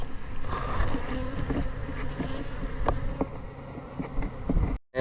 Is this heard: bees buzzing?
yes